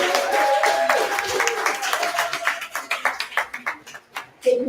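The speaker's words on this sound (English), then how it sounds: "let's give a round of applause to Lisa" A crowd claps for panel guests at a book signing event, dense applause that thins into scattered individual claps before fading out.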